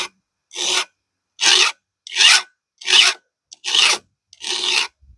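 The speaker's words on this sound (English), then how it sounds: "I'm using the front side of the file because that usually doesn't dull as quick as the middle." A hand file rasping a damaged Pico chainsaw chain held in a vise, seven even strokes in a steady rhythm, each a loud close gritty scrape separated by brief silence, no voices.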